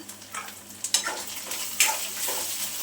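Pithla batter stirred in a pan to break up lumps, short scraping strokes and bursts of sizzle coming in an uneven rhythm, close by and fairly quiet.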